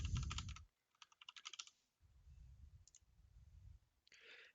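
Rapid run of crisp computer keyboard keystrokes typing names, a dense burst of clicks followed by quieter low thumps and a short final clatter, close and otherwise quiet.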